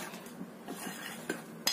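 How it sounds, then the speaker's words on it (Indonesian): A spoon stirs a mashed potato mixture seasoned with salt and pepper in a bowl, giving soft scraping and light clinks of metal against the dish, close and fairly quiet. "Ini kita aduk dulu"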